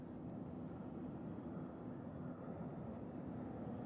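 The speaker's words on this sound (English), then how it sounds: "Our next arrival is coming in, Amazon Air, our first plane of the day coming in from Baltimore. It's a Boeing 737." A Boeing 737 of Amazon Air arriving at Nashville International Airport from Baltimore, heard from a distance as a steady, low, broadband jet rumble that holds evenly throughout with no talk.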